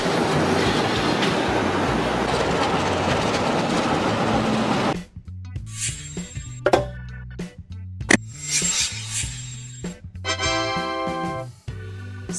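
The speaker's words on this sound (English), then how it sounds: "An upside-down train hanging in the sky. It doesn't run on rails, it hangs under them." A suspended railway train hanging beneath its overhead rail runs past with a loud, steady rumbling roar for about five seconds, then gives way to broken, ringing tonal bursts and clicks.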